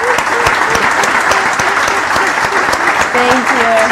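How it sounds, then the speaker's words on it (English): Audience applause at a Startup Grind Barcelona talk: steady, loud clapping from a sizable crowd lasting the full four seconds, with a few voices calling out beneath it. "give that one applause"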